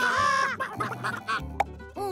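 Hens in an animated children's show cluck and squawk in quick, close bursts for a couple of seconds, with no talking.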